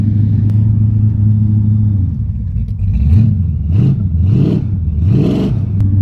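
An automatic transmission truck's engine holds a steady low drone, then revs up and down in several rising and falling surges as it is put in reverse to break the rear brakes loose, loud and close with no talk.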